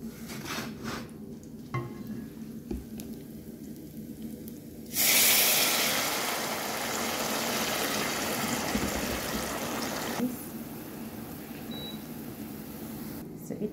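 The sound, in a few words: water added to browned garlic and ginger in a pan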